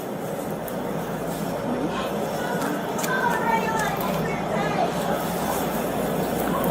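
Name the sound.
subway train running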